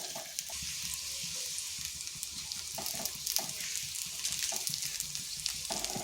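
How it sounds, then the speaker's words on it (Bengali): Pointed gourd (potol) slices frying in oil in a pan give a steady sizzle with occasional crackles and soft stirring or pressing taps, close and moderately quiet, with no talking. "এরপরে এই পাশটাও 2 থেকে 3 মিনিট ভেজে নিচ্ছি।"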